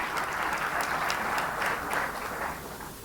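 An indoor audience at an awards ceremony in Morocco applauds to welcome a speaker to the stage, a dense, even burst of clapping that fades slightly near the end.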